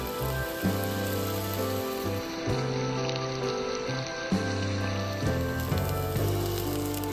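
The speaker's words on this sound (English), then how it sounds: "Pan fry the marinated paneer." Marinated paneer pan-frying in oil on a non-stick pan gives a steady dense sizzle like rain, with a continuous hiss throughout while background music plays.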